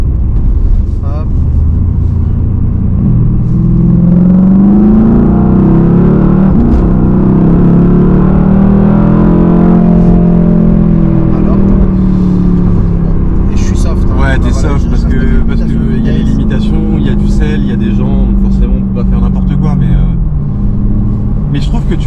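A Mercedes-AMG GT R Roadster in Sport Plus mode accelerates hard, a loud, close, deep engine roar climbing and holding for many seconds, with people talking over it inside the open car.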